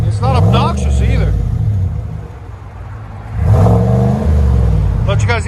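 A 2020 GMC Sierra Denali with a 6.2L V8 and Borla ATAK dual exhaust rumbles loudly nearby, its deep throaty note swelling as the engine revs, with a voice talking over it.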